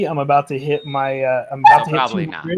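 A pet dog whimpers in high, wavering yips while someone talks over it close to the mic, the whines stretched out and rising between his words.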